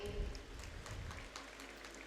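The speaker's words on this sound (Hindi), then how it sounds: "कृपया तालियां जरूर बजाते रहिए" Audience at a literature, culture and technology panel discussion applauds steadily, a dense, fairly distant wash of clapping holding at an even level throughout.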